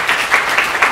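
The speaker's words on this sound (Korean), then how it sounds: "잘 다녀오시도록 박수하겠습니다." A church congregation applauds in unison, rhythmic clapping with a steady beat of about four claps per second, dense and fairly close, with no talk over it.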